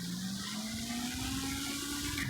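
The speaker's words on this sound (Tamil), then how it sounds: "தண்ணிக்கு மேலே அதாவது வீலிங் பண்ணிட்டே போவோம்" A super bike wheeling through water, with continuous loud rushing and splashing close by over a steady engine drone.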